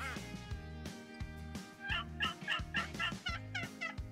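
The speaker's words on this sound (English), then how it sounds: "I just saw some turkeys over to the left." Wild turkeys gobble outdoors during a bowhunting trip. Several rapid, rattling gobbles repeat over a few seconds, fairly faint and somewhat distant, with no one talking.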